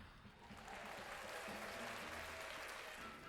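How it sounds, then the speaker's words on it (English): Applause from a crowd of Disneyland cast members swells into steady, dense clapping that holds through a few seconds, faint and distant. "That was all the Disneyland cast members applauding you back."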